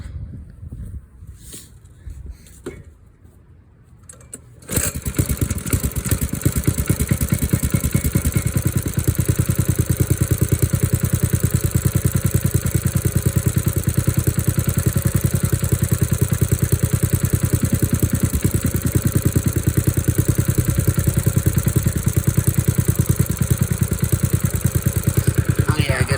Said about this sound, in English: We're gonna start it up, let it warm up.